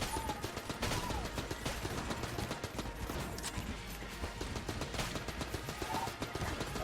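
Rapid AK rifle fire in Enter the Gungeon, dense, continuous bursts of game gunshots crackling at close range throughout, with no talking.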